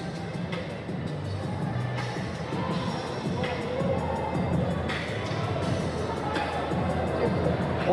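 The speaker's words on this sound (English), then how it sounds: "Interesting response from the crowd." Crowd murmur and scattered cheering at an Olympic women's boxing bout, a steady arena hubbub with a commentator talking over it.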